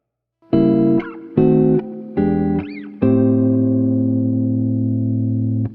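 Fingerstyle jazz guitar plays four chords with tritone substitutions: three short strummed chords with a brief upward slide between them, then a final chord that rings out long. Each chord is loud and clear, with no talking.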